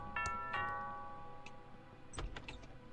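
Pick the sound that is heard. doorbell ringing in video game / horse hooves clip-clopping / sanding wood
doorbell ringing in video game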